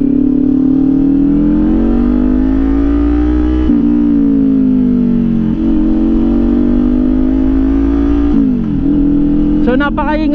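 A Kawasaki Ninja 500 SE inline-two motorcycle engine revs loudly up and down on the road, a droning tone rising and falling through several throttle swells, with a voice briefly speaking over it near the end.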